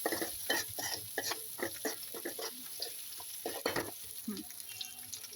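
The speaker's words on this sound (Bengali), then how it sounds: "হলুদের গুঁড়ো দিয়ে নেড়ে দিব" Turmeric powder is stirred into small kachki fish frying in a pan for a spicy chorchori. A steady sizzle runs beneath repeated scraping strokes of a spoon, close and fairly loud throughout.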